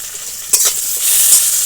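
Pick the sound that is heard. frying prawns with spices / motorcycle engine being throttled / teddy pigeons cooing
frying prawns with spices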